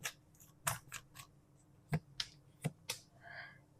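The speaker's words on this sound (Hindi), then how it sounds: "Let's pull out last 2-3 cards." Tarot cards are pulled from a deck during a pick-a-pile reading, giving a scattered series of soft, crisp snaps and flicks recorded up close at low volume.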